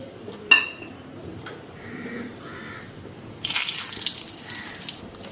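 Leafy greens being washed under a running kitchen tap, the water starting in short bursts and then a steady gush that splashes loudly over the leaves. A crow caws faintly in the background.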